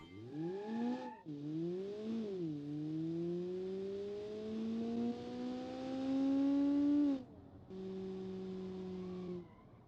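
Small hypermiler car engine in BeamNG, tuned like a tiny Alto-style economy car, droning in rising and falling tones as it revs up and shifts, with brief gaps between gear changes.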